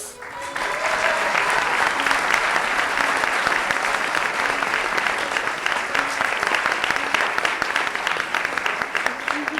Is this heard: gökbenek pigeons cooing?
no